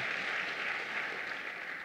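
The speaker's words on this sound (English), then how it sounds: "let's give a round of applause to Doubleday for that" Brief applause from an evening audience at an author event, a soft blended patter of many hands heard from some distance, steady and unbroken for under two seconds.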